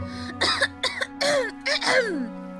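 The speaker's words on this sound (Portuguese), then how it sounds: "Então ela forçou a tosse para causar-lhe remorso." A voice produces a few short, deliberate coughs and throat-clearing sounds in quick succession, close and fairly loud.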